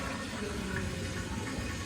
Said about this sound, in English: You can see the water go through the pipe.